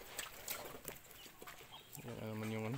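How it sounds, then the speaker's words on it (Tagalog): Birds honk and quack nearby on a Filipino farm with native pigs, then a duck's loud, sustained nasal call rings out at the end over a busy background. "Yan naman yung pato."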